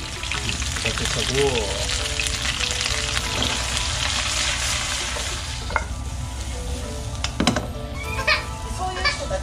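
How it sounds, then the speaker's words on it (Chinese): Meat stir-frying in a small wok with its fat being rendered out, a steady broadband sizzle with scraping stirs, while a voice speaks briefly partway through. "就是焦一下，让它把肉炒焦"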